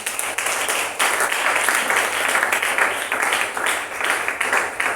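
A church congregation applauds in dense, continuous clapping that stays loud and steady throughout, with voices mixed into the crowd.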